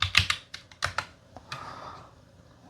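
Typing on a computer keyboard: a quiet, close run of irregular keystrokes and clicks, with a few quick bursts and short pauses, no talking.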